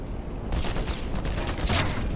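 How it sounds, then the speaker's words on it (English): Grenade blast in the Black Mesa video game: a loud, broad burst that erupts half a second in and rumbles on with dense gunfire-like crackle, swelling again near the end. "Someone threw a grenade at me."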